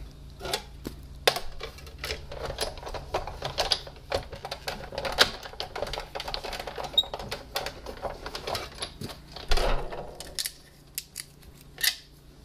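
Paper feeds through a die-cutting machine to cut flower shapes, giving a steady run of dense, rapid crunching and clicking close by, ending in a quieter pause.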